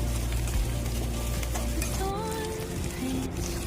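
Potatoes fry in a pan while being stirred, giving a loud, continuous sizzle with scraping and shifting noises from the stirring.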